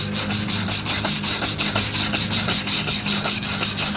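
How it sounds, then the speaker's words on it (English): A handheld wire brush scrubs rust off metal in steady rhythmic back-and-forth rasping strokes, close and loud with no voices. "This is just using a handheld wire brush."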